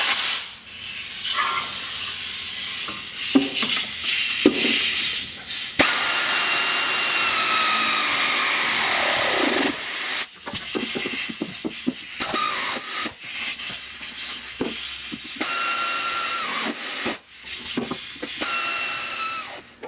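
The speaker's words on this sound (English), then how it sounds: "to do that I just use my air ratchet" Air ratchet tightening nuts on the differential of a 1966 Triumph Spitfire MK2 under restoration, loud hissing pneumatic bursts in repeated short runs with one long sustained burst, close by, no talk.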